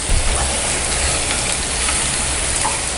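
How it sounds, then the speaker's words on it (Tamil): Onions sauté in hot oil in a pan for Chettinad chicken chukka, a dense, continuous sizzle with no talk over it. "வெங்காயத்தை ஆட் பண்ணிவிட்டு நல்லா வதக்கணும்"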